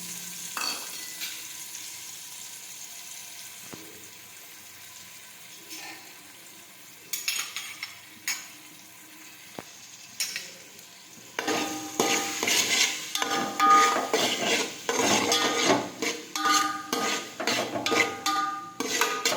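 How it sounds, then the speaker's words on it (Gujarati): Onions sauté in a pan, starting as a quiet sizzle with a few scattered clinks, then turning into loud, rhythmic scraping and stirring against the pan over a steady fry. "થોડી વાર આપણે સાતળી લઈશું।"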